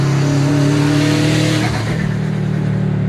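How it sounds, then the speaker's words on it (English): A Subaru WRX sedan under load, its engine droning loud and close with turbo spooling, the pitch holding steady and then dropping as it eases off. "You got some nice spools on the WRX."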